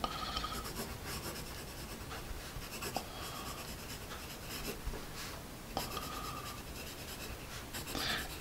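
A vintage Russian graphite pencil scratches and rubs steadily across paper in close, quiet strokes, with small taps and pauses between them and no talking.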